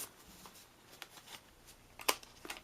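Paper milk carton box being folded by hand, faint crinkles and soft creases, with a few sharper paper snaps near the end, quiet and close with no talk.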